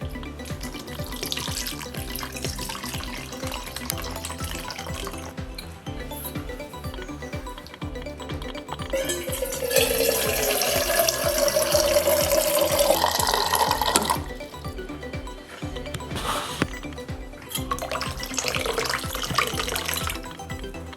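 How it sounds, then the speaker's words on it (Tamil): Water pours into a bowl to soak ingredients in a home kitchen, first as a light, uneven trickle, then as a louder, steady gushing stream for several seconds, before easing off to softer splashes. "இப்போ இதை தண்ணி ஊற்றி நம்ம ஊற வைக்க போகிறோம்."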